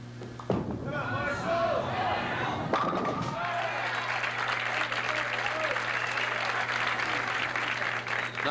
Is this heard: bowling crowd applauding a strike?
yes